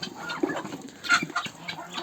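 Several chickens cluck nearby in short, overlapping bursts, with a brief louder squawk in the middle.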